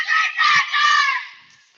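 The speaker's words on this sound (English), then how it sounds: "We have some loud cheering going on by Gilmanton as they retake the court" Loud cheering and shrill shouting from Gilmanton fans at a junior varsity volleyball game, swelling in three quick surges of massed voices before fading out.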